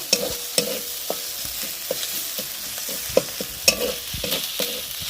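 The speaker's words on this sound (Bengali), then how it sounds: "তেলটা ছাড়তে শুরু করে দিয়েছে ভালো করে কষিয়ে নেব" Jackfruit and potato curry frying down in oil as it is stirred, with a steady sizzle broken by repeated spoon knocks and scrapes against the pan, close up and with no voices.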